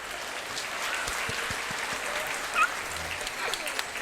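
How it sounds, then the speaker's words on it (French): Sustained applause from a live podcast audience, a steady dense patter of clapping filling the whole stretch at even loudness, with a few faint voices mixed in. "C'est un peu long ces applaudissements."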